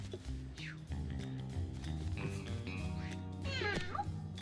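Cats meowing in a video game over a steady, busy game soundtrack, with a few rising mews and a sharper cry near the end.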